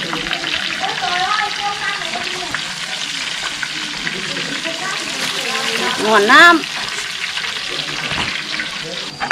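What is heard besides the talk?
frying KFC-style chicken wings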